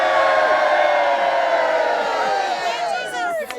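A crowd of people cheering, shouting and whooping together in a loud sustained roar at an outdoor biblical site in Israel, with scattered high yells rising near the end.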